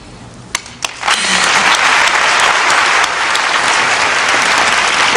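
An audience at a live show breaks into applause: a few scattered claps first, then a dense, loud wave of clapping that holds steady to the end.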